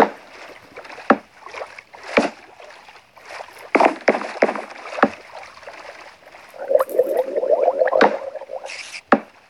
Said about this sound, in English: You have bubbly noises.